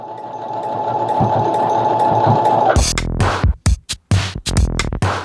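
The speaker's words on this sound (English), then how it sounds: "Staying up all night to sew an outfit." A sewing machine stitches an outfit overnight, running in a steady continuous whir for nearly three seconds, then breaking into short, loud, stop-start bursts of stitching with brief pauses between them.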